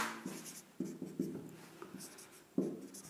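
Handwriting during a Hindi organic chemistry lesson on functional groups, with several scratchy pen or chalk strokes at irregular intervals, close and fairly faint, with no speech.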